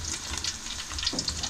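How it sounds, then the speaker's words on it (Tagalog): Steady sizzling and crackling of fish frying in hot oil, a continuous close hiss with small pops. "Prito tayo ulit"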